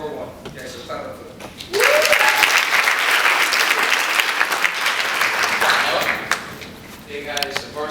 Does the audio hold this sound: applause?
yes